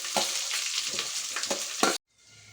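Bay leaves, curry leaves, onions and green chillies frying in oil for egg biryani make a close, steady sizzle with stirring scrapes, then it cuts off abruptly near the end.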